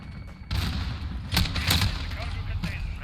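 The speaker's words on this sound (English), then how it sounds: "My gun literally took 2 full seconds to even start shooting." Light machine gun fire in the video game Modern Warfare, a short burst of muffled shots with a couple of sharper cracks, sitting under a steady background bed of game noise.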